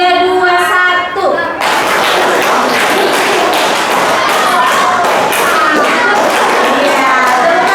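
A class of students clap a counted rhythm pattern together, sharp dense hand claps filling the room, loud and close, continuing steadily after a brief quieter opening with a voice.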